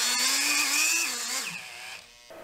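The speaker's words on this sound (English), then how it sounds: "I've mounted the heat break into my Dremel, and this will allow me to spin it super fast so that when I put it in here, we'll be generating tons of friction" A Dremel rotary tool spins a 3D printer hotend heat break at high speed to friction-weld it into place, producing a loud, close whine that rises slightly and then winds down over a couple of seconds.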